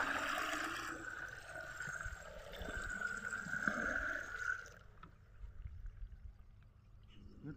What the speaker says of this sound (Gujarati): જુઓ પાણી ભરવાનું ચાલુ કરી નાખ્યું છે ટોટામાં